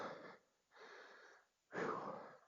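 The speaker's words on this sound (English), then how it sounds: "Sorry for the heavy breathing." Heavy, wheezy breathing of a rider just off a Honda CRF300L dual-sport motorcycle in the woods, three long close breaths with pauses between, the last the loudest.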